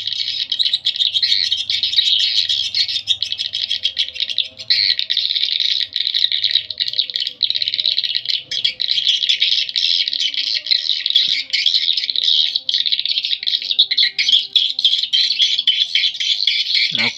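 Swiftlet call recordings of the Pangeran Sriwijaya and Tarik Bayangan Revisi types play back as a dense, continuous stream of high chirps and rattling tweets, loud and unbroken throughout.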